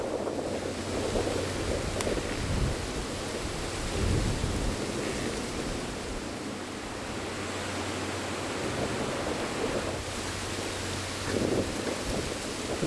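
Wind buffets a hunting trail camera set over a food plot, making a steady, loud, low rumbling roar with gusty swells throughout and no voices.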